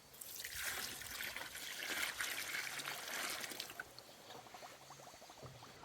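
Water pours into a bucket to dissolve sugar for homemade cherry wine, a soft splashing trickle that swells and fades over several seconds, fairly faint and alone.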